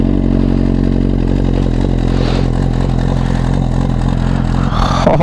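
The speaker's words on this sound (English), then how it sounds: "let's get this cold start going" A Suzuki GSX-R1000R sport bike engine fires on a cold start and settles into a loud, close, rough idle. The idle holds steady, then a brief blip lifts the revs near the end.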